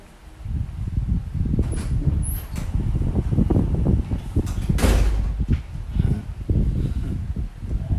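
A door slides and thumps as it is opened and shut, with rustling handling noise throughout and a firm bang near the middle.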